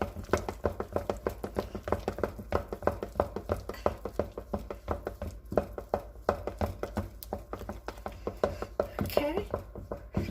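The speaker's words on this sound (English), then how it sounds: "I got the third egg in, and I'm mixing in blending in real well, vigorously, stirring vigorously" Batter for a holiday crown cake being stirred vigorously in a bowl after a third egg is added, a fast regular run of spoon knocks and taps against the bowl, close up, with a faint low hum underneath.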